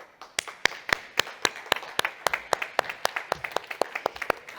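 Scattered clapping from a small audience at a late-afternoon climate tech conference session, sharp uneven claps spread over several seconds with no talk on top.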